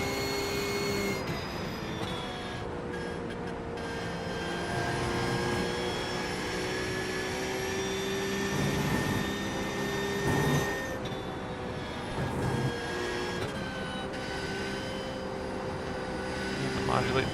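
A race car engine in iRacing at Le Mans drones steadily throughout with sustained harmonic tones, shifting pitch slightly as the throttle is modulated, while someone talks over it.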